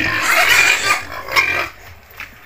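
Fattener pigs on a pig farm squeal and grunt loudly at feeding time, a close, dense chorus that fades toward the end.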